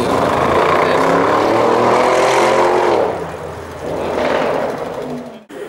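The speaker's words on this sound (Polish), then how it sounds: "Patrz, motor tam jedzie." A motorcycle rides past at a spring outing of classic cars in Białystok. Its steady engine drone is loud at first, then fades as it moves away, and a second engine swell rises and falls after it.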